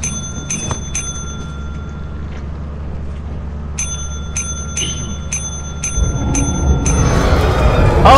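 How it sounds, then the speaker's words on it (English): A bell in the video game Lethal Company rings in bright, repeated dings: three quick strikes, a pause, then a faster run of six or seven, over a low steady hum before louder rumbling noise builds at the end. "Yeah, I really want to hit the bell now."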